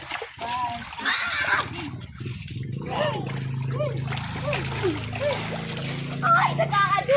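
Splashing water in a swimming pool as a child jumps in, with bursts of splatter amid lively voices of people talking and calling nearby.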